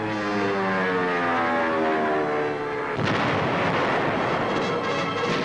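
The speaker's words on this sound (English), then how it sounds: "200 guns joined the attack" Artillery guns fire on a German city in a sustained, heavy barrage, first a harmonic droning roar and then a dense, rumbling wash of blasts that carries on without a break.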